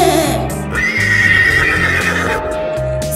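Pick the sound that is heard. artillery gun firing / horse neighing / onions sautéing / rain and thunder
horse neighing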